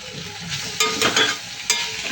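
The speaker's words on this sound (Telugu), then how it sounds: "కారం పచ్చివాసిన పోయేంత వరకు ఫ్రై చేసుకుంటూ ఉండాలి" Chili powder fries in a pan with sour raw mango curry, a bright hissing sizzle broken by a few sharp scrapes and clinks of a spoon stirring close by, with no speech.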